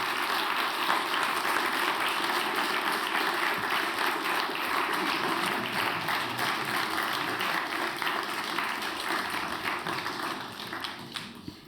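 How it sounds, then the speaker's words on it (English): Steady crowd applause fills the room, dense and continuous, a mass of hand claps holding level before thinning slightly at the very end. "I think we can applaud our guests"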